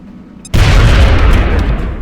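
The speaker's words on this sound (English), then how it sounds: "Toss a nade. Blow this guy up." A grenade blast in the XCOM: Enemy Within video game, a loud, sudden boom after a brief quiet lead-in, followed by a sustained rumbling roar of debris.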